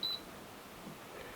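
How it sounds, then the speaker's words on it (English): A single short, high electronic beep from a BougeRV CR PRO fridge's settings button sounds at the very start, then quiet hum follows. "you'll hear a beep"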